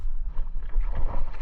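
A boat off Anacapa Island running at full throttle, giving a short burst of deep, pulsing engine rumble mixed with wind buffeting on the microphone.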